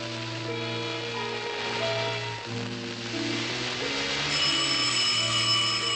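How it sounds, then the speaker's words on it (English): Heavy rain pours down steadily with a dense, continuous hiss that stays loud and constant. A sustained musical score plays over it. "It's starting to pour down."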